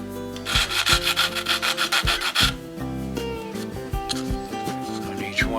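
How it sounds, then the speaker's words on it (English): Wooden piece for a scratch-built bunkhouse model being sanded at its end: about a dozen quick, close rasping strokes in a steady rhythm, then the scraping stops and other handling noises follow. "just sand the end a little bit."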